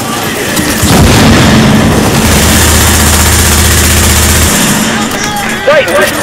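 Sticky bomb going off in The Division, a loud sustained boom with heavy low rumble and a steady drone underneath, tailing into lighter debris and effects at the end.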